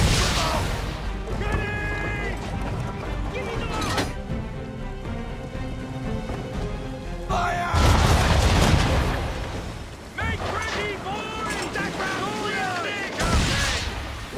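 Ship cannons firing during a naval battle in Assassin's Creed 3, heavy booming volleys mixed with game music and crashing impacts, loud bursts recurring across the scene.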